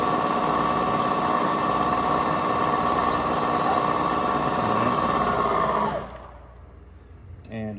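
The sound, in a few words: drill countersinking a hole in a metal Catan baseplate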